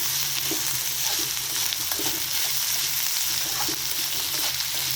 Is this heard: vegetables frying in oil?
yes